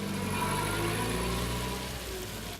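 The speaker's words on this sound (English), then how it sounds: "There's a forklift truck outside just loading up a flatbed truck with a consignment heading off to the Middle East." A forklift truck's engine hums steadily outdoors while it loads a flatbed truck with a consignment, a low continuous mid-distance drone with no talking.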